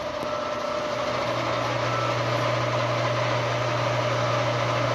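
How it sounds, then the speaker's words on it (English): A lathe runs a production part in a machine shop with a steady, continuous mechanical hum and an even tonal drone. There are no pauses or changes throughout. "Dan is in here running our first production part on the lathe."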